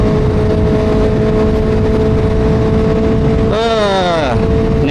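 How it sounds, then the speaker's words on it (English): Loud wind roar and engine drone fill the inside of a motorcycle helmet on the freeway, a constant rushing din; near the end the engine note climbs sharply as the bike revs and accelerates. "is to test to see how well my helmet sounds like on the freeway."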